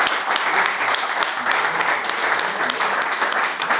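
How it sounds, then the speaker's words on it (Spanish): A room of listeners at a book presentation applauds Emilio, with steady, dense clapping from many hands filling the whole stretch without talk. "un aplauso para Emilio"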